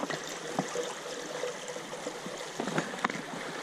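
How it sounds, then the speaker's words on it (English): Water being squeezed through a Sawyer Mini filter into a bottle, producing a faint, continuous trickle with small splashes and gurgles, close and quiet. "the cleaner it is, the faster it is to squeeze the water out"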